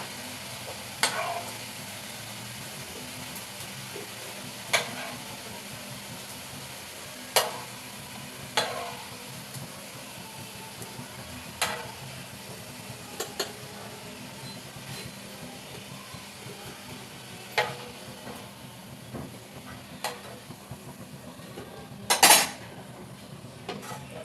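Fried soybean pieces lifted from sizzling oil while cooking a vegetarian hilsa-style dish, with sharp intermittent clinks of a utensil against the pan every few seconds over a faint steady sizzle.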